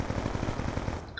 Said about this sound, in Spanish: Disparos a rachas.